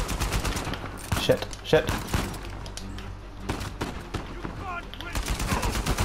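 Gunfire in the Uncharted 4 video game, including sniper shots, cracks out in sharp irregular bursts and rapid volleys amid battle noise, with a player's voice cursing briefly over it.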